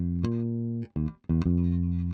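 A short bass guitar phrase: a sustained low note, a couple of quick plucked notes after a brief gap, then another held note, no voices.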